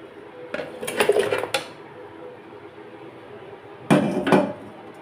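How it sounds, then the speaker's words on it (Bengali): Sliced raw mango pieces dropped into a pan on a stove, giving two short bursts of clattering and rustling contact, the first around a second long and the second shortly before the end, with quiet room noise in between. "এখন দিয়ে দিব আমি কেটে রাখা আম।"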